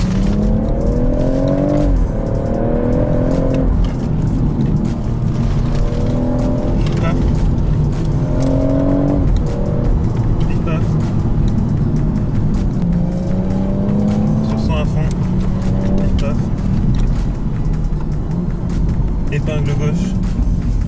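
A 340-horsepower xDrive all-wheel-drive car is driven hard on a rally-style road through hairpins, its engine revving and shifting repeatedly, loud and close, while a voice talks over it.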